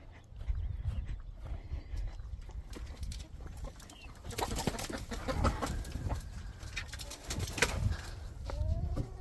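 Chickens on a homestead in Mexico cluck and murmur softly as they settle to roost for the night, with low coos and faint rustling in a quiet outdoor setting.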